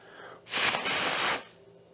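Aerosol spray squirted into a Tecumseh engine on a Murray push mower: one loud, close hiss lasting about a second, with a brief dip partway through, then silence.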